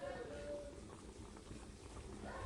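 Bisaya-style chicken simmering in a pot as coconut milk goes in, a steady bubbling and liquid churn that runs throughout at moderate level, with a voice speaking over it.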